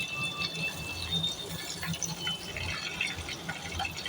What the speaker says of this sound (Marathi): थोडंसं तडतडल्याचा आवाज येतो